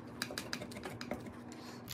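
A utensil cutting through a cheesecake pie in a dish, a quick series of small clicking taps and scrapes, close and fairly quiet, with no talking.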